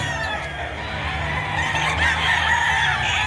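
Chickens and roosters at a poultry market in Padre Garcia, Batangas, cluck and crow steadily over a busy market din, with a rooster's crow rising loudly near the middle.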